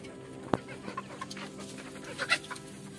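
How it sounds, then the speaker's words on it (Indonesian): Chickens cluck in a spacious coop holding only a few birds, with one sharp, close cluck followed by scattered softer clucks and calls over a steady low background hum. "kandangnya luas cuman ayamnya dikit"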